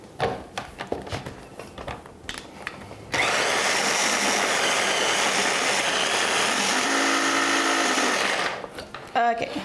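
Blender pureeing a mix of dried fruit such as dates and apricots into a thick paste, a loud steady motor whir running alone for several seconds after some clattering handling.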